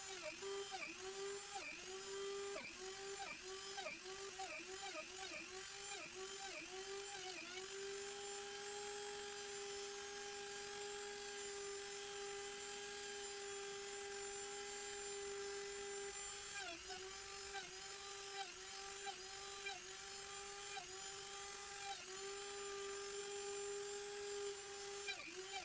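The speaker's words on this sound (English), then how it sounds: "The dust blowing attachment for your Dremel is a game changer. It keeps your work clean and you can see exactly where you're drilling the holes." A Dremel rotary tool whines at a steady high pitch while drilling holes in a knife sheath, its tone dipping briefly under load at several points and then holding steady for long stretches.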